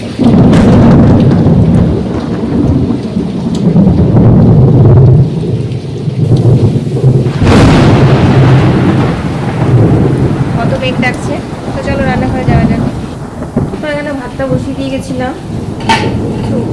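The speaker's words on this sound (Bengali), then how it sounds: "মেঘ ডাকছে বাবারে বাবারে" Thunder rumbling through heavy rain, with a loud, continuous roar of rain and deep low rumbles that swell and fade. Kitchen clatter and a voice come in over the storm toward the end.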